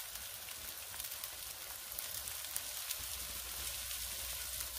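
Meat patties frying in an oiled flat pan give a steady, moderately quiet hiss and crackle that holds evenly throughout.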